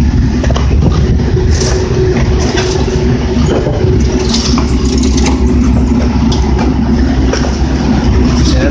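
An AAON rooftop HVAC unit motor runs with a loud, steady mechanical rumble and rattle heard up close, with faint talk in the background.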